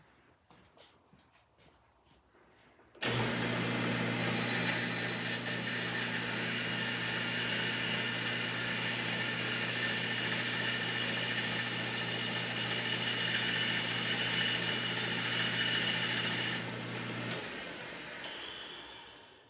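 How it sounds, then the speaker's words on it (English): Belt sander grinding burrs off an Edison phonograph mandrel shaft in a workshop, starting abruptly after a quiet moment with a steady high whine and hum that holds evenly for about fourteen seconds before cutting off and spinning down. "So if you have a belt sander, all you need to do is walk over to the belt sander."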